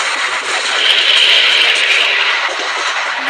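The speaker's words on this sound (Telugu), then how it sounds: "జనరేటర్ సౌండ్ కూడా వస్తుంది కదా సార్ దీనికి" A locomotive's generator hums in a train video game as a steady, loud, broadband drone that swells slightly mid-clip and holds constant, with no voices over it.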